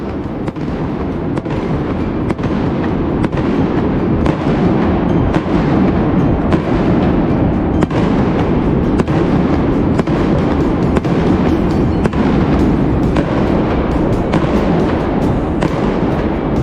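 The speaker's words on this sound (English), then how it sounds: "they would let off fireworks at the top there, inside the dome." Fireworks bursting inside a stadium dome in Japan after a home-team win, a dense continuous barrage of loud crackling pops and booms echoing under the roof, sustained throughout with no pauses.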